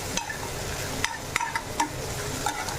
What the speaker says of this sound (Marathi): कांदा फ्राय व्हायला लागला ना कांदा फ्राय व्हायला लागला